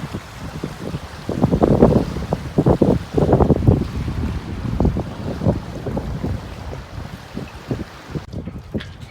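Gusty wind buffeting the microphone on a windy morning at a marina in Portland, Connecticut, in irregular loud bursts that ease off toward the end.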